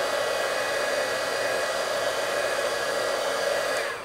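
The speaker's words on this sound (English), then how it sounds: "I'm just going to heat over that again to melt that glitter into that" Embossing heat tool blowing hot air to melt glitter powder on a Christmas card, a steady loud whirring hiss that fades at the very end.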